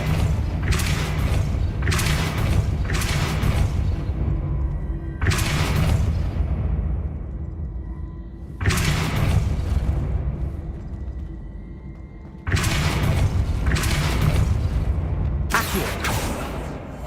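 A run of booming spell impacts in Hogwarts Legacy gameplay: heavy thuds and crackling bursts that come in quick clusters over a dense, loud background, with no speech.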